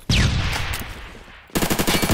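The X95 SMG with an Osprey suppressor in the video game Phantom Forces fires a short burst, then a second rapid, loud stream of automatic shots close up, with no talk over it.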